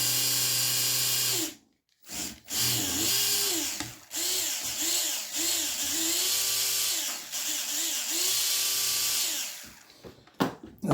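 A Fly slot car runs around the track with its axle freshly oiled, a high electric motor whine that rises and falls in pitch as it speeds and slows, with brief gaps and clicks near the start and end.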